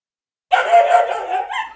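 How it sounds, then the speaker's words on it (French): A dog barks and yips in one short, close, loud burst that begins after a moment of silence, with a second bark at the end and no talking. "Ça aussi, c'est les chiens"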